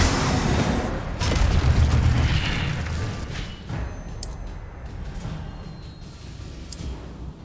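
A fire spell is cast in the wizarding game Hogwarts Legacy, opening with a loud whooshing boom of flame that rumbles and fades, followed by a few softer magical bursts and crackles.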